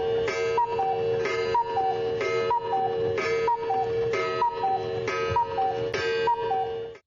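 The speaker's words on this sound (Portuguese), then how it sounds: "ouviu o relógio cuco da casa do avô a noite inteira" A cuckoo clock in a grandfather's house ticks steadily at night, its regular clicks about every half second. Soft ringing tonal notes chime along with the ticks, close and even throughout with no voices.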